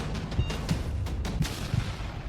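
Explosions and blasts from a video game, several dull booming hits spaced roughly every half second over a steady rumbling background, moderately loud with no voices.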